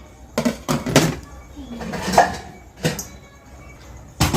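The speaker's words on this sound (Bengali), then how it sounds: "কড়াই বসিয়ে দেওয়া হলো" A metal wok (karahi) set down on a kitchen gas stove gives a few sharp clanks and knocks close by, spaced irregularly, with brief scraping in between.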